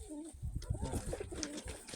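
Domestic pigeons of the Hrechani (Krymaky) breed coo softly in repeated low, throaty phrases, close by, with faint background noise.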